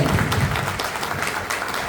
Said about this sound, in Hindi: सबके लिए मैं कहूँगा जोरदार ताली बजाएगा पंचायत